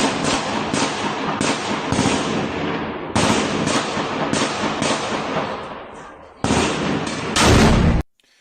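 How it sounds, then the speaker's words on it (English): Firefights rage outside an apartment block in a town, with bursts of gunfire and sharp cracks echoing from a distance, broken by short pauses and ending in a louder burst before cutting off. "you can hear the sound of firefights happening outside of this apartment block"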